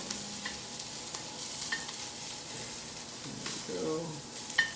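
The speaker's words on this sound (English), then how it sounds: "So constantly stirring that, not adding any liquid. Stir frying is a dry process." Chow mein ingredients stir-fried dry in a pan, with steady sizzling and repeated scraping of the utensil against the pan, plus a few short clinks near the end.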